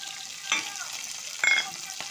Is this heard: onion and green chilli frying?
yes